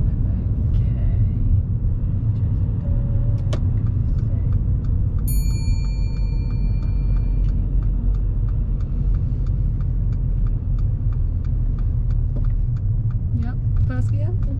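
A car in first gear during a driving lesson on busy roads hums with a low, steady engine rumble throughout, while an instructor and learner talk over it and faint indicator-like ticks sound.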